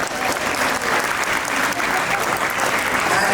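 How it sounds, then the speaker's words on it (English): Guests at a wedding reception break into sustained, dense applause, a steady wash of clapping from a crowd that holds at full loudness throughout. "Let's give them a round of applause."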